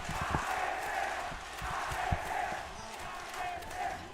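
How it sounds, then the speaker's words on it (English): Crowd at an on-site esports watch party for a VCT Ascension Pacific Valorant match, a steady roar of cheering and shouting that swells and dips, with a caster's voice talking over it. "You can hear the crowd rallying behind them, hungry for blood"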